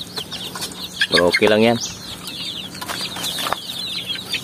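Free-range farm chickens clucking nearby, with one louder squawking call in the middle and softer clucks around it, while someone talks briefly.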